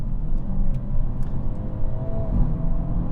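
The 2-liter, 176-horsepower engine of a 2022 Hyundai Elantra N runs as a low, steady rumble heard from the cabin, with a faint rising whir partway through and no speech.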